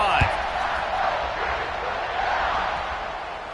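Crowd noise in a football stadium video game during a kickoff, a steady broad roar of cheering with a sharp thump near the start, which sounds like the kick.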